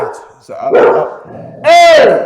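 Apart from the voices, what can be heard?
dog barking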